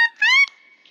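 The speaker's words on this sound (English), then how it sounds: "A clarinet sounds like this." A clarinet gives a brief woodwind phrase, a short note sliding up into a bright held tone that fades quickly, close and alone.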